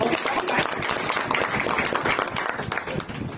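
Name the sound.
audience clapping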